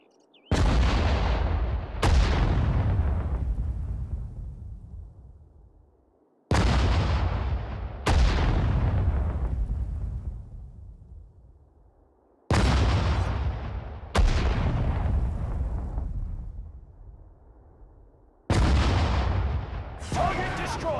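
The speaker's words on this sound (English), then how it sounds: "Artillery, fire!" Artillery guns fire in the video game Sudden Strike 4, heavy booming shots arriving in pairs about every six seconds, each with a long rumbling decay, loud and close.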